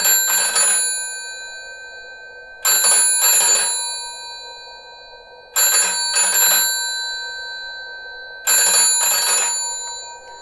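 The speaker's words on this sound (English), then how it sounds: "So 12 volts isn't really high enough to drive this bell" An electric bell run on 12 volts rings in four short bursts, each a rapid double clatter with a sustained metallic tone that decays between strikes, close and fairly weak.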